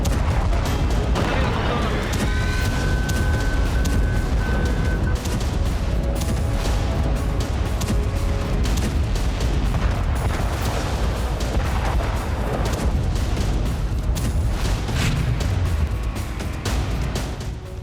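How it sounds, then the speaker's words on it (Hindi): Continuous heavy blasts and rumbling booms from bombs exploding in an air strike on Dahiya, Beirut, loud and sustained throughout with dense low-frequency roar and scattered sharper cracks. "दाहिया में इतने बम बरसाए कि हिजबुल्लाह चीफ नसरल्ला समेत कई कमांडर खाक हो गए।"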